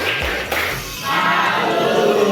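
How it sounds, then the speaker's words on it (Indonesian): A classroom of pupils claps together in a rhythmic group cheer for one team, a burst of loud close taps and claps followed by a busy, crowded wash of sound. "Coba bereng tepuk salut ke kelompok tilu sok tepuk salut."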